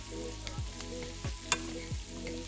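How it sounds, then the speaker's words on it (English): Potatoes are stirred in melted butter in a pan, a soft continuous sizzle under three slow scraping strokes of the utensil and a single sharp clink, fairly quiet and close, with no talking. "once the butter is melted, we're gonna go ahead and put our potatoes in, and we're gonna stir it around"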